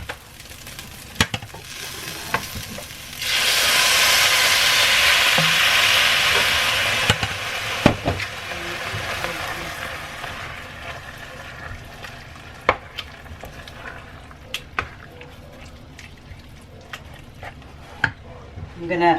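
Loud frying sizzle surges as chile sauce hits meat in a hot pan, then settles into a steady simmering hiss with scattered clinks of a utensil stirring.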